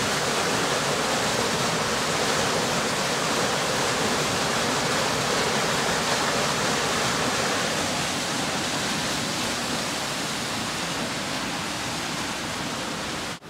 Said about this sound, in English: the water is flowing with quite some force and pushing the